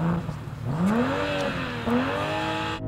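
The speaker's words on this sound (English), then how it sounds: "Nick, rev up your car." A car engine revs up sharply twice in quick succession, rising in pitch and dropping back, loud and close.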